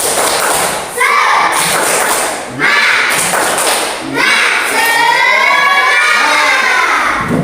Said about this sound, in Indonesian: Kita coba tepuk semangat ya.